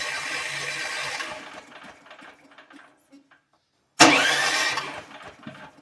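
A Champion portable generator engine cranks over near and loud for about a second and a half, winds down into faint clicks and silence, then cranks again abruptly, steady and harsh, without firing.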